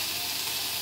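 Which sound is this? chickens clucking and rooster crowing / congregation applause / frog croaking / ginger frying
ginger frying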